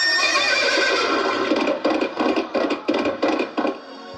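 A horse lets out a long, loud neigh that breaks into a series of shaky, pulsing whinnies before fading.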